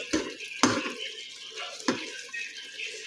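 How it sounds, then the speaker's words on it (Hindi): Chicken and spices sauté in a pan for an aloo chicken shorba, giving a close, steady frying hiss broken by a few sharp spoon-on-pan clatters as the mixture is stirred. "2 मिनट तकरीबन हो गए हैं हमारी चिकन और मसाले को भुनते हुए"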